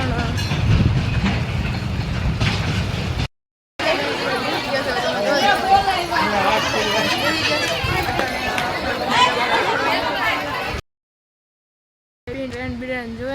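A large train rolls past with a continuous rumbling, clattering run of rail noise, steady and fairly loud, while people chatter nearby throughout.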